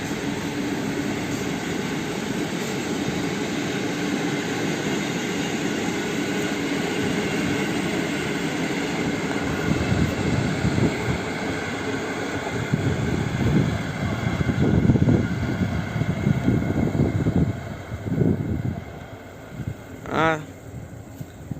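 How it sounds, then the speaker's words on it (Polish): A Polish Express Intercity Premium train passes near Warszawa Zachodnia, a sustained broad rushing roar that builds with rhythmic wheel clatter, then fades while a horn-like tone sounds briefly near the end. "I jedzie Express Intercity Premium."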